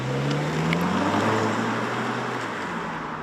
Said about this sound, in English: This easily spools up to 60 miles an hour in under 6 seconds.